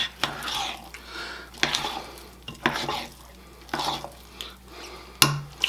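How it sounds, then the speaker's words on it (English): Hummingbird cake batter with pineapple juice being stirred in a bowl, a series of scraping, sloshing strokes every second or so with occasional clinks of a utensil against the bowl, close and moderately loud. "Just want to make sure I get it all mixed together. Just to where, especially that pineapple juice is all mixed in."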